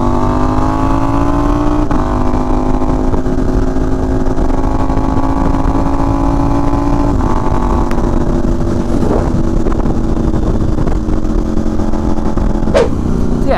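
Motorcycle engine on a night ride, revving hard and accelerating to overtake, with rising and shifting harmonic tones under steady wind and road roar, loud and close throughout.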